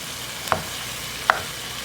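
Corned beef fries in a pan on a medium stove, giving a steady soft sizzle. Two sharp clicks of a utensil scraping the pan mark where the meat is being broken into small pieces.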